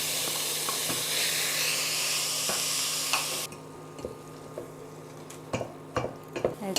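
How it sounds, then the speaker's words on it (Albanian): Minced meat hits a hot pot of softened, golden aromatics for a simple cream soup, loud broad sizzling that cuts off abruptly after three seconds, followed by scattered spoon scrapes and knocks against the pot. "do t'i shtojmë mishin e grirë."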